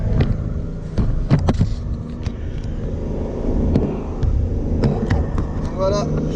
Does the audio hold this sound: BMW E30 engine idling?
yes